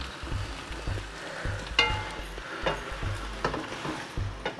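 Mixed devil stir-fry with soy sauce being stirred in a pan: a continuous oily sizzle broken by repeated scraping and clanking of a spoon against metal, close and fairly loud.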